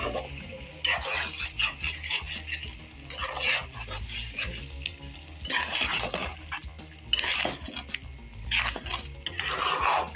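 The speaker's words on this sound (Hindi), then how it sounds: "फ्लेम को तेज़ करके इसको मिक्स करेंगे अच्छा सा" Champ masala is stirred briskly in a pan over a high flame: repeated metal scraping and clatter of a utensil against the pan in uneven bursts over a constant sizzle, with a voice faintly present at times.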